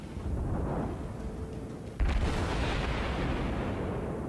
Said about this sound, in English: Another salvo going in.